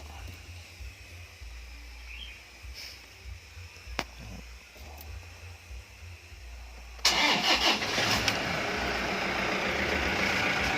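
A car engine cranks and catches partway through, jumping to a loud steady idle after a quieter stretch. The owner is starting it with the spare key so the doors can be locked while it keeps running.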